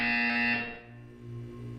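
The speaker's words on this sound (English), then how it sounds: "You will hear a buzzer. When you hear the buzzer, look up at the ceiling." The loud electronic buzzer from the video game Portal 2 sounds alone as a steady, harsh tone that drops in pitch partway through and carries on more quietly.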